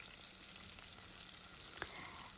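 Flour-coated fish fillet frying in a pot of hot oil, a steady soft sizzle with a faint brief crackle near the end.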